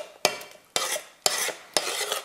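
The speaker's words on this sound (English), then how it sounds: "So we'll stir this up a little bit." An onion mixture for enchilasagna is stirred in a pan in four evenly spaced scraping sweeps, each a sharp onset fading into a soft shuffle, fairly close and alone with no voices.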